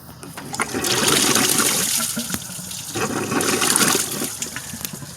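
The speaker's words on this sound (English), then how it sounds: "So then once I stopped running the water, I just like blew through it" Air is blown through a 2006 Pontiac Grand Prix coolant system after a water flush, giving a sustained gurgling, splashing rush of water and air in two surges, fairly close and moderately loud.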